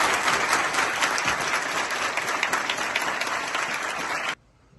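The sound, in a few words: audience applause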